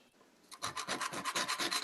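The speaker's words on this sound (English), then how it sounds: "we're gonna work on sanding this flush" Sandpaper laid on a bench rasps against a piano hammer shank's glue collar to sand it flush, starting faint and then running as a quick, even series of close back-and-forth strokes.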